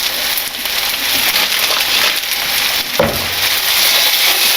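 Chicken biryani sizzles and fries steadily in a pan while being stirred, a dense broadband crackle with a brief scrape of the utensil near the three-second mark and no talking.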